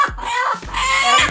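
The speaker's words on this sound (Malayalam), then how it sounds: "കോഴി." A chicken near its laying spot clucking loudly and close, a few harsh drawn-out squawking calls in quick succession.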